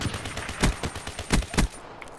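Pistol shots in Call of Duty: Black Ops III, four or five sharp separate cracks at uneven intervals over game background, fairly close and distinct.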